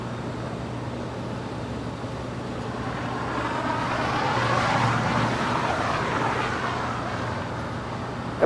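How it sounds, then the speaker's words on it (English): An Asiana Airlines A350 lands at LAX on the far north side, a distant broadband jet roar that slowly swells and eases over a steady low hum of airport traffic. "It's that A350 landing up there on the north side."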